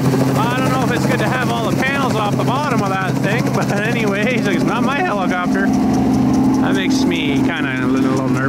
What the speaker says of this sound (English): Machine gun helicopter.